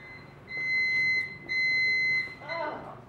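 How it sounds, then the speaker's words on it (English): Chipper alarm clock going off at a tech event: a shrill electronic tone repeated in two long sustained bursts, close and loud, with faint room chatter behind. "So your alarm goes off in the morning."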